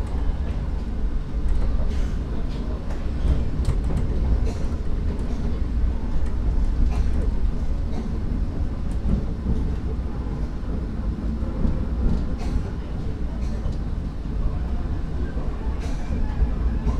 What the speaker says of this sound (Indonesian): ini persiapan masuk di stasiun Semarang Tawang sekaligus tujuan akhir dari kereta api Argo Muria